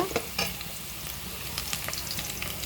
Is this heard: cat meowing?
no